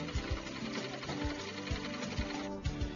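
A sewing machine runs steadily at a women's sewing training centre, its rapid needle stitching in a regular mechanical rhythm, close and moderately loud with no talk.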